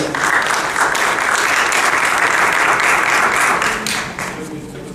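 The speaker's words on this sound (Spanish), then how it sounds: "Y lo recibimos con un fuerte aplauso" An audience applauds the speaker at an occupational health and safety legislation session, a full burst of clapping that stays strong for about four seconds and then tapers off near the end.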